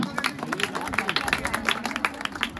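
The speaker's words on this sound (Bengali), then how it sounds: "ওদের জন্য জোরে হাততালি।" Scattered clapping and crowd noise at a school football final medal ceremony, brief rapid claps mixed with chatter and a voice over the top.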